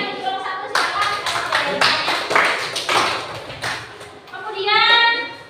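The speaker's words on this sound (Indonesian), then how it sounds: "Tepuk tangan saya untuk kelompok 1 silakan." A class of students in a lesson gives group one a round of applause, with quick rhythmic claps in bursts over a murmur of children's voices.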